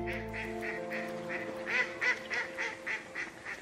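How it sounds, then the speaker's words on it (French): Ducks quack repeatedly in a steady rhythm of nasal calls, several birds overlapping close by, over a low background hum at the start. "Vous aimez les canards?"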